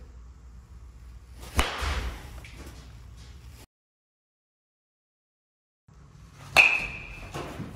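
An old red BBCOR baseball bat hitting balls twice, several seconds apart, each a loud sharp crack, the second with a clear high metallic ping that rings on briefly, separated by silence.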